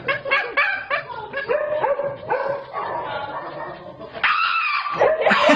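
A Shiba Inu lets out a series of high, strained screams and yelps in rapid bursts, loud and close, with people talking and laughing over it.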